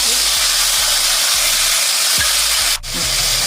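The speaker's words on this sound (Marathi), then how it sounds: "टमाट्याची पेस्ट टाकू।" Tomato paste hits hot oil with cumin seeds in a pan for street-style sev bhaji, giving a loud, steady hiss and sizzle close up, with a low hum underneath and a brief dip near the end.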